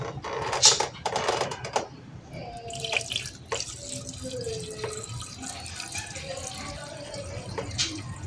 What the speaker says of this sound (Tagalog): So ito na yung ating distilled water. Ilagay na natin dito sa radiator.